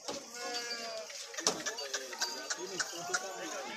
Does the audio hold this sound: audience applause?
no